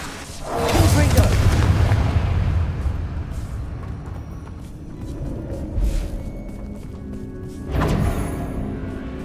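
A Confringo blasting spell goes off in the video game Hogwarts Legacy: a heavy, close explosive boom with a deep rumbling tail, then smaller thuds and a second burst near the end, with voices calling out over the clatter.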